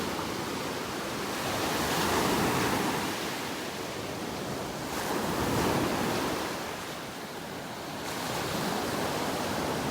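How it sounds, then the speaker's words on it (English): Ocean waves on a beach in North Naples, Florida, rolling in and washing out in slow swells of broad surf noise with some wind, no voices. "Listen to those waves."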